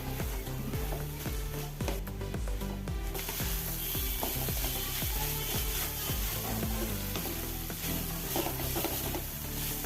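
Broccoli stir-fry being mixed in a pan after the lid comes off, a sizzle and stirring sounds buried under loud, continuous rhythmic music that dominates throughout.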